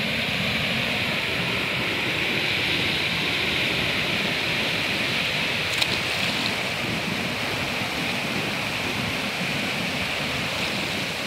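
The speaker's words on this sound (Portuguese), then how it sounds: "Está aparecendo as cataratas do Iguaçu, olha que maravilha." Water rushes at Iguaçu Falls as a steady, dense roar of heavy flow. It holds constant throughout with no voices.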